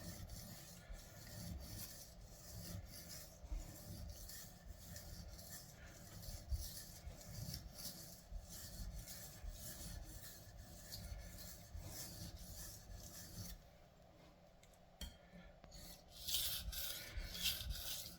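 A knife blade is pushed forward repeatedly across a whetstone, giving a continuous quiet rhythmic rasping and rubbing with a brief lull near the end and no talk.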